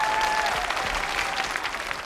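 An audience in a television studio claps steadily for a couple of seconds, a dense, even patter of applause from a moderately sized crowd.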